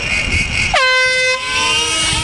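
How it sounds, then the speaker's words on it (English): After a moment of low background noise, a single loud air horn blast starts an RC car race, sounding briefly, then ringing out and fading. "On the sound of the horn."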